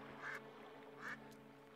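Two faint, evenly spaced duck quacks sound during a Twilight Princess game stream, soft and distant over a low steady background hum.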